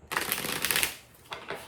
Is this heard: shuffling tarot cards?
yes